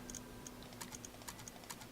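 Quick keystrokes tapping on a computer keyboard, close and fairly quiet, in short irregular bursts over a faint steady hum with no voices.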